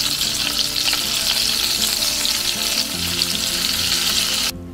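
Prawns threaded onto wooden sticks fry in oil with a loud, dense, continuous sizzle and crackle, close up and unbroken, easing slightly near the end.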